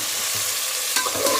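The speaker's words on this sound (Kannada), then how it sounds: "ಈರುಳ್ಳಿ ಫ್ರೈ ಆದಮೇಲೆ ಟೊಮೊಟೊ ಹಾಕಿದ್ದೀನಿ" Tomato going into onions already frying in a pan, with a steady broad sizzle, a brief louder hiss as the pieces land, and light scraping stirs near the end.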